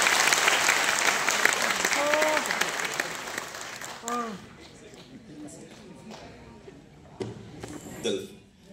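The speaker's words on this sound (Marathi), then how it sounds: "जोरदार टाळ्या" Audience applause after a speech by Yuvraj Sambhajiraje Chhatrapati Bhosale, dense clapping for about four seconds that thins into scattered claps, with voices heard over it.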